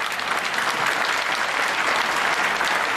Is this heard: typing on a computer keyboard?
no